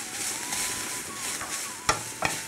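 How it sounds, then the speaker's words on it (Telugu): Coriander and curry leaves being fried and stirred for kothmir mutton, a soft continuous sizzle with occasional sharp scrapes of a spoon against the pan near the end. "దగ్గర అయ్యేదాకా వేయించాలి."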